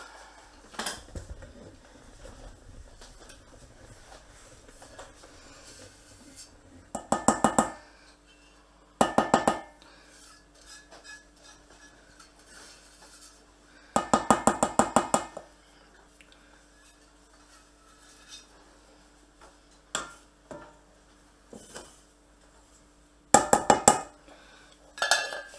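Spatula or spoon scraping a baking mixture out into a bowl, heard as several short bursts of scraping and knocking against the bowl separated by quiet gaps, close and fairly loud.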